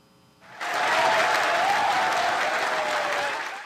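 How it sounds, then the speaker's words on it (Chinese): Mission center staff applauding after a rocket booster recovery attempt, a sudden dense burst of clapping that swells and holds steady for about three seconds before easing off. "伫任务中心的员工拢拍破欢呼"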